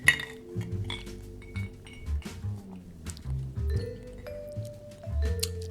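Glasses of Aviation gin clink together in a toast, several soft chinks and a brief ringing tone amid quiet handling noise close by.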